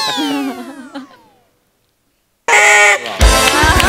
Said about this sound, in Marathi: पिपाण्या एकत्र वाजवतो